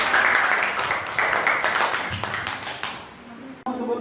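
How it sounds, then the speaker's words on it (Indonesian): Students in a school classroom clap together during a teaching-practice lesson. The dense, close clapping fills the first three seconds, then thins into scattered taps and room noise. "Oke, tepuk tangan untuk kita semua ya."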